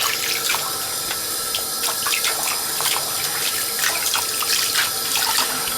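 Steady running water from a tap into a sink while a Neo Geo AES game controller is washed, a continuous close splashing hiss with small spatters and no talk.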